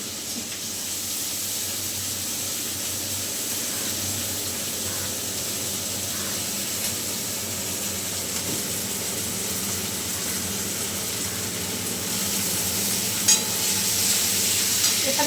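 Onions and green chillies frying in a kadai for pabda fish do peyaja, a steady soft sizzle and hiss that runs unbroken throughout, rising slightly toward the end with a small clink.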